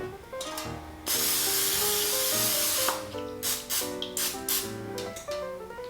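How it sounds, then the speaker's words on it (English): A burst of non-stick cooking spray hisses into a standard loaf pan for beer bread, one sustained close spray lasting about two seconds over soft background music. "we're just going to spray with some non-stick cooking spray"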